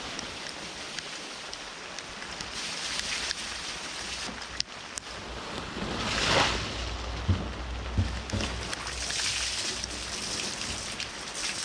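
Steady rain patters and drips across a surface, a dense, continuous hiss with occasional louder drops, close by and with no voices.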